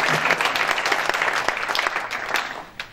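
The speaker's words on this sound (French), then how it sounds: "On peut l'applaudir." Audience applause at a Jesuit-affiliated university assembly in Namur: steady, dense clapping from a crowd that fills nearly three seconds, loud and continuous with a slight fade at the end.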